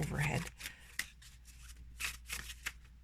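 Close, crisp bursts of riffling and shuffling from a Dungeons & Dragons tarot deck, with a few separate card flicks and slaps in an otherwise quiet room.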